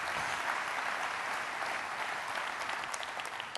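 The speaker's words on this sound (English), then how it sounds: "How about a round of applause for those folks" Guard and Reserve partners receive a round of applause from a large conference audience, steady unbroken clapping that runs the whole time without speech.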